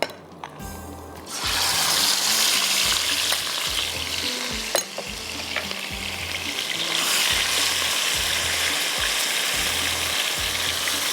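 Dal mixture hitting hot oil in a home kitchen sizzles loudly and steadily after a brief quiet start, with stirring clinks and scrapes pulsing through the frying hiss.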